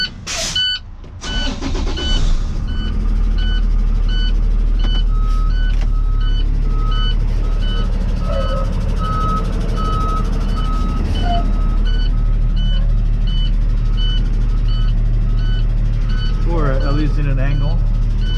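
A tow truck backs up toward an Enterprise box truck, its backup alarm beeping at a steady, regular pulse over a loud idling diesel engine for the full length, with brief talk early on.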